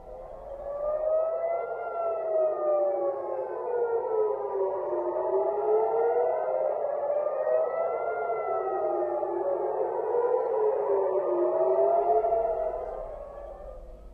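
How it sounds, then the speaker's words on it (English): Air raid sirens wail continuously across Jerusalem and the West Bank, several overlapping tones rising and falling slowly out of step, loud and sustained with no other sounds. "as sirens sounded across the country, including in Jerusalem and the West Bank"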